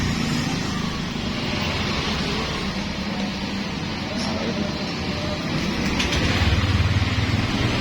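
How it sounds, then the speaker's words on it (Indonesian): A fuel-injected Honda Vario 150 motorcycle engine idles with a steady low hum under a wash of broadband noise. The level swells slightly near the end. "Oke, motor nyala, RPM sudah mulai bergerak."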